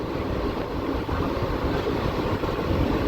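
An Intercity Superfast train on the coastal Bhubaneswar to Vizag route rolls past near Chilika Lake, a steady, fairly loud rumble that holds throughout without voices.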